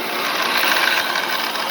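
A Rottler boring bar's gear and handle mechanism whirs and clicks steadily at close range, a continuous dense mechanical rattle with no talking.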